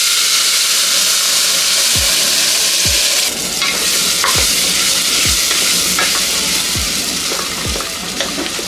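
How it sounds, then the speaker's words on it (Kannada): Ground masala paste fries in oil for lima bean pulao, a loud, close, continuous sizzle with repeated stirring scrapes and soft thuds of a spoon against the pan. "ಅಲ್ಲಿ ತನಕ ಇದನ್ನು ಎಣ್ಣೆನಲ್ಲೇ ಫ್ರೈ ಮಾಡ್ಕೊಳ್ಳೋಣ."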